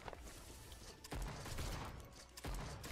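Shotgun blasts from the video game Girls Frontline 2, two heavy booming shots spaced about a second apart over a noisy, rumbling game background.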